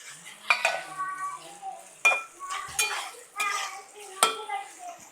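Metal spoon stirring ginger garlic paste in a cooking pan, giving repeated scraping clinks at an irregular rhythm with a light background sizzle, close by.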